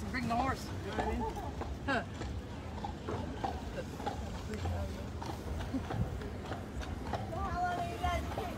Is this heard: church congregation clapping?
no